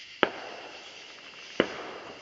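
Mini fireworks going off outdoors, two sharp separate pops about a second and a half apart over faint background hiss, moderately distant.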